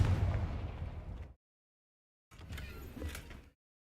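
Two bursts of a Confringo fire-blast spell in a Harry Potter video game: a loud, crackling blast that fades over about a second, then a gap of silence and a second, slightly shorter blast.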